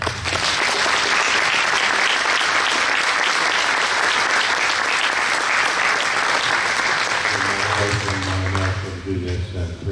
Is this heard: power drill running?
no